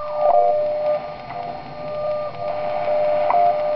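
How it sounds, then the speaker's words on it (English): A WBR regenerative shortwave radio set just at the threshold of oscillation, tuned across the 31-metre broadcast band, giving narrow whistling heterodyne tones that rise and fade over a steady hiss. "I've adjusted the radio so it's just on the threshold of oscillation, so it sounds quite narrow as you tune in and out of signals."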